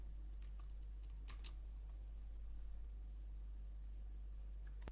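Quiet keystrokes on a computer keyboard, a few soft clicks and a quick pair of taps against a low steady hum, close but faint.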